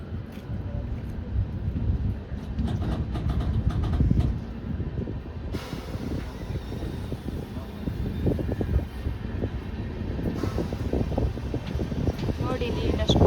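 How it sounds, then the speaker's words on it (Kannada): The 12090 Jan Shatabdi Express pulling away from the platform, a steady low rumble of wheels and carriages with wind noise, as a voice talks over it. "ನಮ್ಮ ಟ್ರೈನ್ ಡಿಪಾರ್ಚರ್ ಆಗ್ತಿದೆ ತಿಪ್ಟೂರಿಗೆ"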